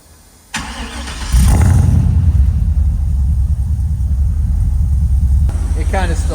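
An LS-swapped Mercedes 190E cranks and fires up from cold, settling into a loud, steady, deep rumble with a truck-like tone. Brief voices come in near the start and again at the end.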